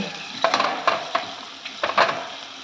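Green chickpeas, green peas, carrots and other vegetables tipped into a hot frying pan and stirred, giving several scraping, clattering bursts over a soft sizzle, with quiet gaps between the stirs.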